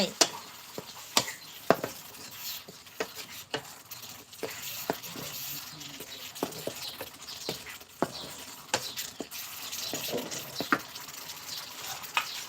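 Mixed vegetables and minced pork stir-fried in a pan, with a soft continuous sizzle broken by irregular scraping and tapping of the utensil, fairly quiet and close.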